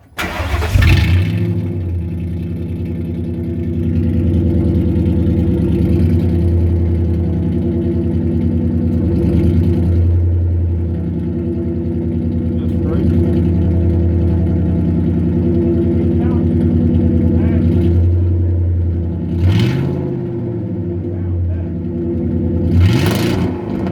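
A straight-piped Ford F-150 with its exhaust tips removed rumbles deeply at idle, punctuated by several sharp throttle blips that swell and fall back, with voices faintly underneath.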